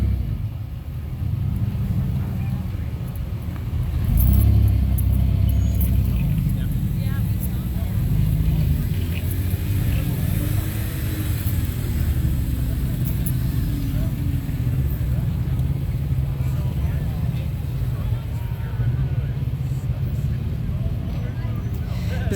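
A rock crawler buggy at the W.E. Rock 2023 competition course rumbles with a low, steady engine drone that swells briefly as it works through a gate. A commentator talks over it throughout.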